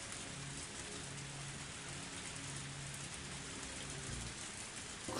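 Steady rain falling in a video game (Higurashi: When They Cry, Tatarigoroshi), a dense, even hiss with no voices, holding at the same level throughout.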